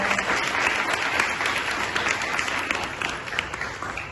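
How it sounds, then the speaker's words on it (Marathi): An audience at a high school demonstration event in Kolhapur applauds steadily, a thick, even wash of many hands clapping at moderate volume throughout, without noticeable talk. "या दोघींच मनापासून आपण टाळ्या वाजून कौतुक करूया"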